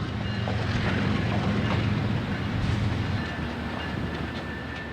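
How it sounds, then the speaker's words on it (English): A CSX-bound mill freight train switches empty coal and coke hoppers out of U.S. Steel, giving a steady low rumble of rolling cars with faint squeals, fairly near and sustained. "the mill job is hard at work switching a mix of empty coal and coke hoppers out of U.S. Steel"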